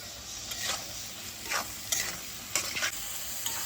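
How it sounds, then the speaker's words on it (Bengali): Raw prawns stirred into sizzling spice masala give a soft, constant frying hiss, with repeated scraping strokes of a spatula across the pan. "এই সময় আমি চিংড়ি মাছটা দিয়ে দিচ্ছি।"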